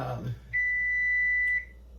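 A kitchen oven timer, set while baking Easter dinner rolls, gives one steady high electronic beep lasting about a second, loud and close, after brief kitchen noise.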